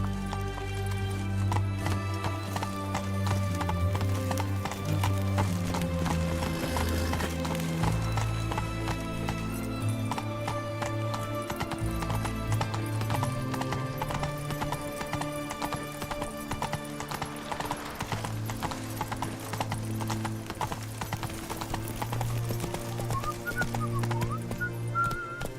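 Roach the horse gallops in The Witcher 3: Wild Hunt, steady clip-clop hoofbeats running throughout over a constant bed of game music, with an occasional whinny and no talk.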